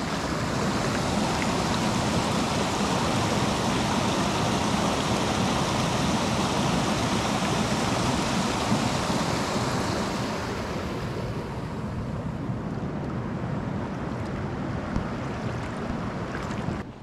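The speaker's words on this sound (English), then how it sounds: "The water is flowing." Water rushing steadily at Big Bear Lake, a dense, continuous wash close by that stays loud throughout and eases slightly toward the end, with no voices.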